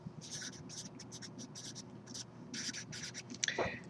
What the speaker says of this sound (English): I'm going to write it again here.